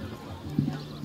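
Horse hooves clip-clopping on a show jumping arena surface at a regional jumping championship in Jerez de la Frontera, a few soft thuds in a short burst under an announcer's voice.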